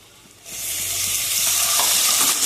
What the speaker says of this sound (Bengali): পেঁয়াজটা লঙ্কাটা ভালোভাবে ভেজে নিয়েছি, দিয়ে দেবো একটুখানি আদা রসুন পেস্ট